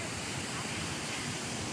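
Waterfall on Vitosha mountain, heard from the pool at its base: a steady, dense rush of falling water, continuous and fairly loud, with no breaks or other sounds over it.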